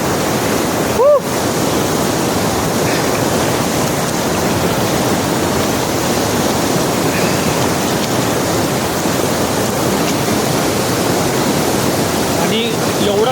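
Fast-flowing river water at an outdoor swimming spot, a loud continuous rushing roar close by with no pauses, and a brief faint voice near the start.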